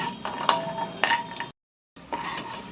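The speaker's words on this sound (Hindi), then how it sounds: "एक कटोरी काजू ले लिए हैं, और इनको भी हल्का सा भून लेंगे" Cashews lightly roasting in a metal pan for dry-fruit laddoos, with sharp clinks and scrapes of a spoon against the pan and a brief silent gap midway, close and without talk.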